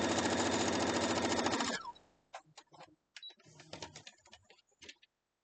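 A sewing machine stitches a quilt block in a steady, rapid run of close mechanical clatter for under two seconds, then stops, followed by scattered clicks and handling noises.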